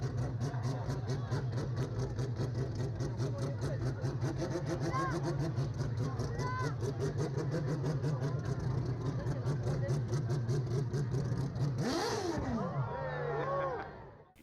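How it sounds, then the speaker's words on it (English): Mazda 767B prototype race car with a rotary engine, its engine running steadily under a narrating voice, then a sharp high rev near the end before the sound cuts off. "creating the characteristic wailing high-end exhaust note and barking quick revs"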